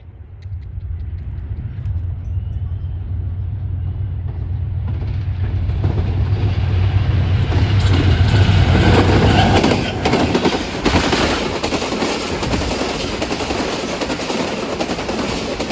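Karachi Express, a diesel-hauled passenger train, runs through Gaddar railway station without stopping, building from a low engine drone to a loud, close roar with rattling wagons and clattering wheels before easing off.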